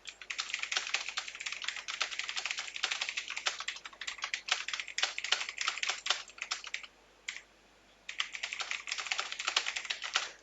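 Rapid, clicky keystrokes on a computer keyboard patter continuously as an email subject is typed, with one short pause midway before the quick tapping resumes.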